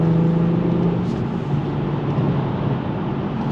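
A 400 HP manual BMW 4 Series pulls hard under acceleration at night, a close, loud engine drone with a rising tone early that settles into a steady rumble, heard from inside the car.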